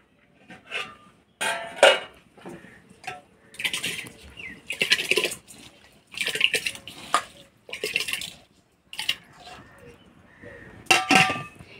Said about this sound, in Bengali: এবার হাঁড়িতে দিয়ে দিব